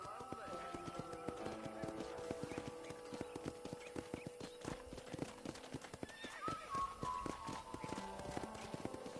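Rhythmic hoof clip-clops from a horse in Red Dead Redemption at a ranch corral, steady and fairly close, with a neigh and background music-like tones, voices talking at times.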